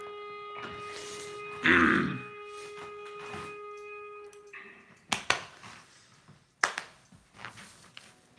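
A short harsh cough-like burst rises out of a quiet, hum-filled background during an NHL 18 video game broadcast, followed later by a few sharp clicks and knocks.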